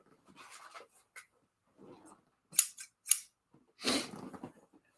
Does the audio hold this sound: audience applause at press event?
no